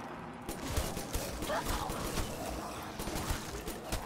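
Gunfire in Black Ops 3 Zombies: a dense spray of shots running under a constant wash of game sound and music, with talk over the top.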